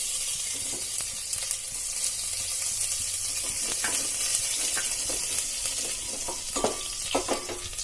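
Chopped garlic sizzles loudly in hot oil with cumin seeds for Sindhi-style whole moong dal, a steady close frying hiss with a few scrapes of stirring and no talk.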